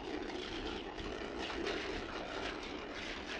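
Delta IV rocket engines roar continuously as the vehicle lifts off at dawn carrying Orion, a dense, steady, distant rumble with no breaks.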